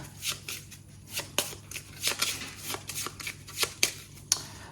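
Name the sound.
shuffling a deck of cards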